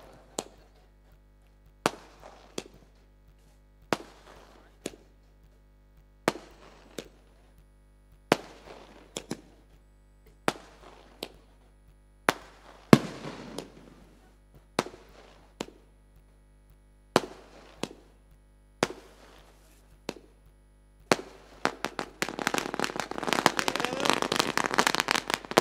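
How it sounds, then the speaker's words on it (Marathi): Firecrackers burst one after another at a local cricket tournament, sharp loud cracks spaced a second or two apart, ending in a dense, sustained crackling barrage outdoors. "फटाक्यांची आतिषबाजी आपण पाहतो."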